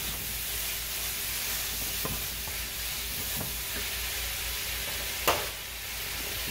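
Alcohol cooking off in a pan for a Mexican roasted poblano bowl gives a steady, loud hissing sizzle throughout, with a brief clink near the end.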